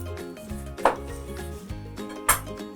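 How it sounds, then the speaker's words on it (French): A kitchen knife slices a globe artichoke in half, giving two short crisp crunching cuts that stand out over a steady low background hum, with no talking. "On va venir couper l'artichaut en deux."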